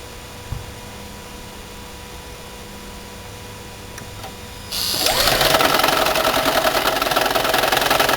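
A Gen 3 Toyota Prius with its 2ZR-FXE engine cranks and starts with one ignition coil disconnected, a quiet near hum before the engine catches about five seconds in, settling into a loud, rough, rattly idle.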